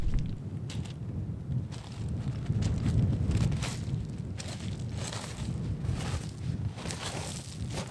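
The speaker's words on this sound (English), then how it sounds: "it is very windy" Strong gusts of wind buffet the microphone on an exposed mountain pass between Green Gable and Great Gable, a steady low roar with surging gusts and no voices.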